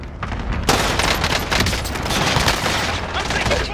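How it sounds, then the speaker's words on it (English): Dense, continuous automatic gunfire and booming blasts from a Call of Duty: Modern Warfare multiplayer match, loud and nearly unbroken throughout, with heavy bursts intensifying partway in. "I'm taking fire."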